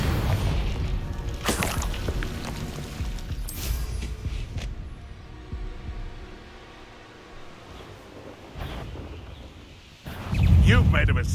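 Confringo fire-spell blasts in Hogwarts Legacy: several booming bursts spaced a few seconds apart, the last one loudest and longest, with spoken voices and spell calls mixed in.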